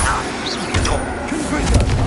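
A Bombarda spell blast in the Hogwarts Legacy game, a loud rumbling explosion with dense crackling debris filling the short moment, with a voice speaking over it.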